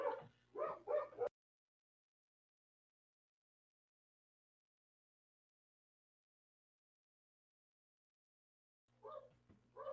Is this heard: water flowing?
no